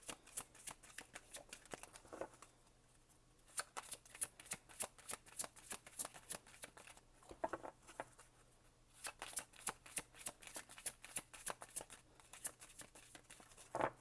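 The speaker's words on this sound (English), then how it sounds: "These cards are a little awkward to shuffle because they're big as well" A stack of large tarot cards being shuffled, a long run of quick riffling taps and slaps in bursts, with short pauses in between.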